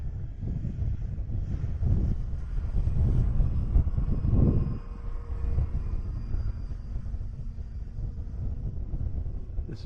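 A Grand Tundra RC model airplane flies past at about half throttle, its motor a low, wind-buffeted drone that swells around the middle, then eases off while the plane stays moderately close.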